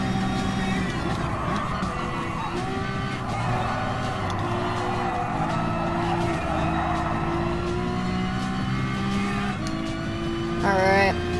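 Ferrari LaFerrari racing car in Gran Turismo Sport, its engine droning steadily with shifting pitch through a race, loud and continuous, with brief higher whines near the end and a voice talking over parts of it.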